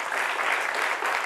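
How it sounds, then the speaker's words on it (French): Children applaud in a French-language setting, a brief burst of dense, even clapping at steady loudness throughout. "pendant que nos petits camarades applaudissent"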